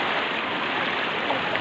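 Floodwater rushing steadily through a flooded neighborhood, a broad continuous wash of flowing water with no breaks, close and fairly loud.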